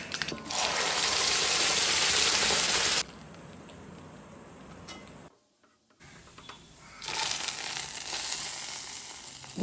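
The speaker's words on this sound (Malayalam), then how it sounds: "കുറച്ച് എണ്ണയ്ക്കകത്ത് കൊച്ചുള്ളി ഒന്ന് വാട്ടി അങ്ങ് ഇട്ട് കൊടുത്ത് ഇളക്കി" Small onions (shallots) sautéing in hot oil for a buttermilk curry give a loud, close sizzle that drops to a quieter hiss, cuts out briefly, then rises again.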